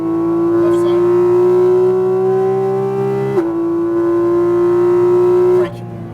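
A Porsche 718 Cayman GT4 RS accelerates hard on a racetrack, its engine a loud, sustained droning wail. The pitch climbs steadily through the gears, with two quick dips as it shifts, heard close from inside the car.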